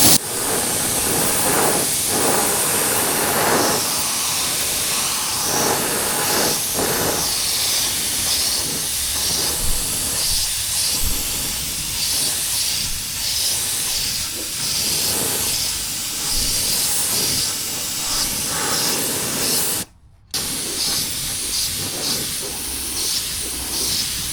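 A spray gun lays a coat of clear on a car panel during a blended repair, a steady continuous hiss running almost unbroken, with one brief pause near the end before it resumes.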